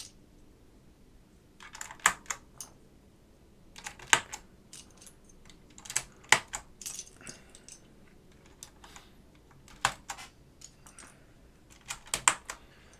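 Clusters of crisp key clacks from a restored vintage keyboard during a typing test, arriving in short bursts separated by pauses, close and fairly quiet.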